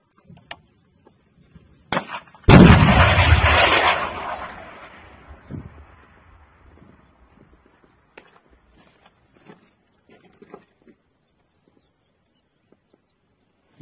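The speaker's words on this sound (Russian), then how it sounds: "Внимание, выстрел!" A sudden loud blast as a Stugna anti-tank missile launches, followed by a long rushing roar that fades over a couple of seconds, with faint clicks and thumps scattered around it.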